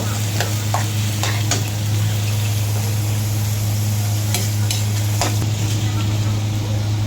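Potatoes fry in a pan with garlic and onion for chicken caldereta, a steady loud sizzle with an underlying hum and occasional scraping clicks of a utensil stirring.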